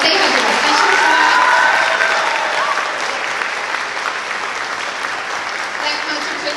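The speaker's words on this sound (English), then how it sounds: "Let's give them a huge round of applause." A large audience applauds a middle school spring band concert held at Midwest High School. The clapping is dense and steady, loud and close, and it fills the whole stretch alone with no talk.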